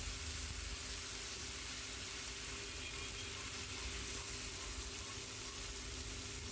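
Koi fish fries in oil in a pan, giving a faint, steady, even sizzle throughout with no talking.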